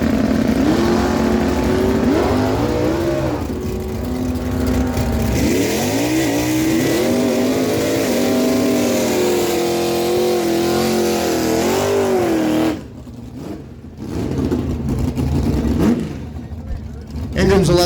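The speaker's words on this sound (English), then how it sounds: "John Armstrong on the left side of the track bringing in the 69 Camaro, 976 dial on the right side." Drag racing cars, a 1969 Camaro and a Chevelle, roar down the dragstrip at an NHRA event, engines loud and sustained with rising revs under an announcer's continuous commentary, cutting off near the end.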